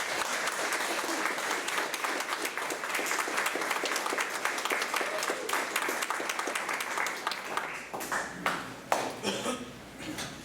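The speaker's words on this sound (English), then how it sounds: "Please give our inductees a round of applause." An audience at a National Honor Society induction ceremony applauds the inductees with sustained clapping that thins toward the end into scattered individual claps, with faint murmuring underneath.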